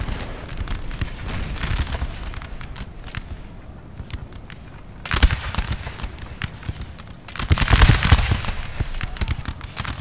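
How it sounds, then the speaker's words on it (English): Musket volleys crackle in a Napoleon Total War multiplayer battle, dense ragged bursts of gunfire rolling continuously with two louder swells of massed firing over a busy battlefield din. "Keep the volleys going, boys."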